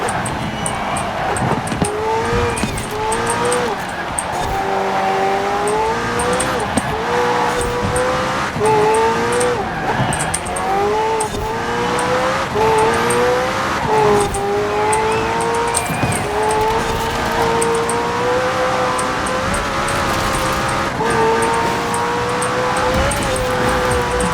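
In Forza Horizon 4, a hard-to-control car drives at speed with a steady, loud engine whine that rises and falls through gear changes, tires squealing now and then over a constant road roar.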